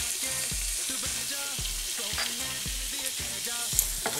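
Cumin, coriander and turmeric powders fry in a hot pan with a steady, close sizzle and a rhythmic stirring pattern throughout, with no one talking.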